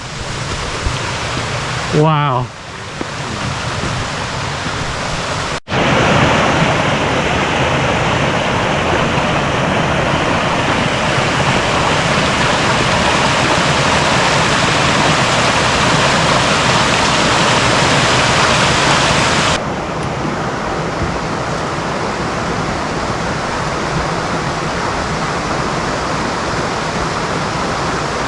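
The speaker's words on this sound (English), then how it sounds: "right here we have some dueling cascades" Twin forest waterfall cascades rush in a loud, steady broadband roar that holds throughout, briefly opening with a short exclamation and a passing whistle-like warble before the water dominates.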